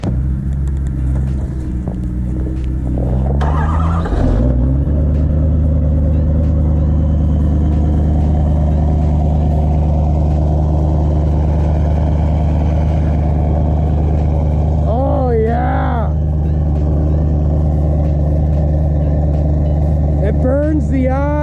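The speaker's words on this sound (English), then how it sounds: "a cold start today will keep the EPA away" A diesel hotshot truck engine after a cold start idles with a loud, deep, steady rumble close by, a brief rev early on, while someone talks over it now and then.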